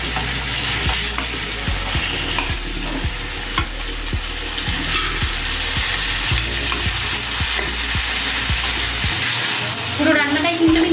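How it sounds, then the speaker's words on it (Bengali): Chili prawn with sugar is stirred in a frying pan, a steady loud sizzle cut by regular rhythmic scraping strokes of a spoon against the pan, close and continuous throughout. "চার চামচ চিনি আমি এর মধ্যে দিয়ে দিলাম, দিয়ে ভালো করে এর মধ্যে মিশিয়ে দেবো।"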